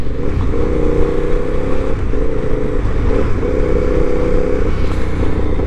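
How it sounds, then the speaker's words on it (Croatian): A 2006 KTM SuperDuke 990 on its stock factory exhaust, engine running loud and close with a deep, pulsing note that rises and falls through several short surges. "Ima brutalan zvuk koji je nenormalno dobar i to sa fabričkim izduvom"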